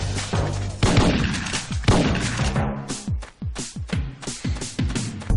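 Video game weapon fire: dense bursts of rapid gunshots, loud and close, with a quick rhythmic rattle of individual shots near the end and no talking.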